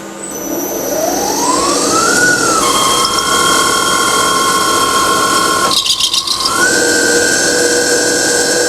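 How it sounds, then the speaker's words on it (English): An alternator starts up and runs under an electrical load of about 150 amps, giving a loud whine that climbs in pitch, settles into a steady high tone, briefly dips and then resumes. "let's fire up this alternator."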